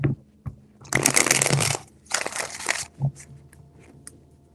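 A deck of tarot cards is shuffled by hand in a few close, crisp riffling bursts with pauses between them.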